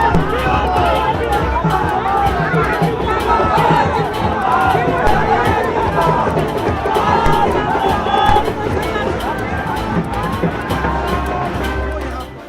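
Crowd of political party workers at a road show in Patna, Bihar: loud continuous outdoor hubbub of many voices, cheering and shouting, sustained throughout with no single clear speaker.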